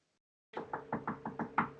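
Seven quick, sharp raps of knuckles on wood, close and evenly paced, ring out alone after a moment of silence.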